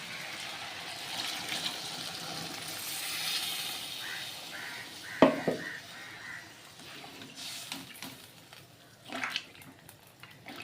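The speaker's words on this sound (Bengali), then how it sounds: "এবার আমি দিয়ে দেবো জল।" Water poured into frying masala for a potato curry (aloo dum) makes a hissing, bubbling sizzle with a sharp splashy burst midway, then a softer simmering hiss, fairly quiet, with no talking.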